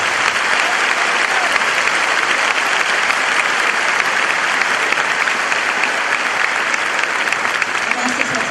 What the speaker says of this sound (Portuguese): Um aplauso para nosso Deus.